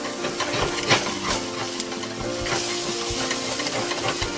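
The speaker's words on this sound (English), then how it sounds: "see how I have this pan here with all this stuff in it from cooking that, and I'm going to scrape it." A utensil scrapes cooked-on bits from a frying pan used for venison, a steady rasping scrape over a continuous sizzle, close and fairly loud, with no talk.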